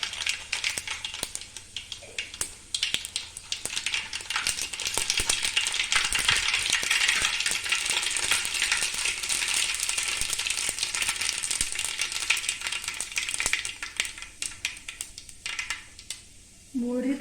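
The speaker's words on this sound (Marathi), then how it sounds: "आता आपण भडंग फोडणी टाकायला घेतली याच्यासाठी मी इथं तीन चमचे मोहरी घेतलेली" Mustard seeds for Kolhapuri bhadang, a puffed-rice snack, crackle and pop in hot oil as a dense, fairly quiet spattering that runs steadily for many seconds before stopping.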